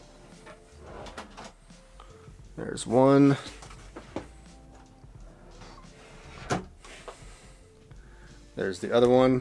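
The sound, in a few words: toe kick drawer on slides opening and closing in camper van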